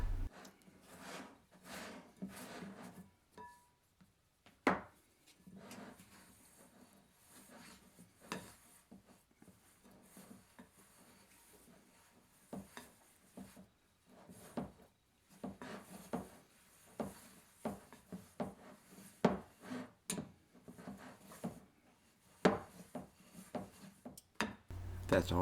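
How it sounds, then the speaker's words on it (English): A spoon or spatula scrapes the sides of a mixing bowl while combining bread dough by hand, with soft intermittent rubs and sharper knocks spread unevenly over a quiet background. "Then scrape the sides of the bowl and finish combining."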